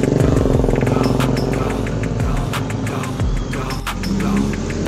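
A Karesori Agustus Pariwisata tour bus, an ACM Maharat Luxury Komuter with a New Cyber High Deck 3+ body, passes close by in congested traffic, its steady engine rumble and throbbing drone loud alongside other vehicles.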